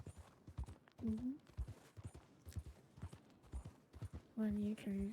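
Horse hooves clip-clop in a steady walking rhythm, close but quiet, under voices talking.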